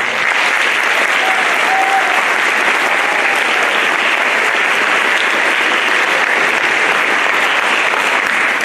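Sustained applause from a large audience at a school boys' choir Christmas concert, steady and loud throughout with no letup, dense clapping filling the whole stretch.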